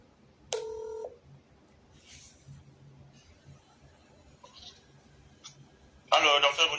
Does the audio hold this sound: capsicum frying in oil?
no